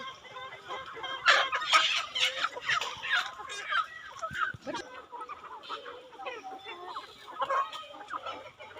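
Several laying hens clucking and squawking in a busy, irregular chorus, fairly close, with a louder burst early on.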